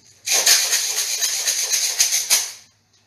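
A homemade shaker made from thick cardboard and tin, shaken in quick rhythmic bursts that give a bright, rattling hiss for about two seconds, close and fairly loud, with no talk.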